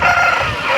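A seven-month-old peacock-type rooster weighing about three kilograms crows loudly and close by at a busy hen market, in one brief burst.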